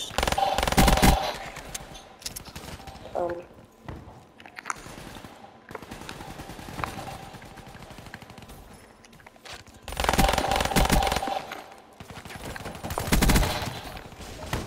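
Automatic gunfire rattles through a Call of Duty: Black Ops III match, loud sustained bursts at the start and again near the end, with quieter scattered shots and in-game clatter between them.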